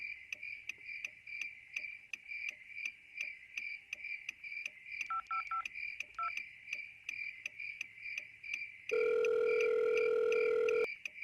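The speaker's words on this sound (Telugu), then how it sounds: "శివాకు ఒకసారి కాల్ చేయి." A telephone call is placed in a Telugu horror-thriller short film: a short burst of DTMF keypad tones is followed by a steady, loud ring tone, heard over a constant chirring of crickets at night.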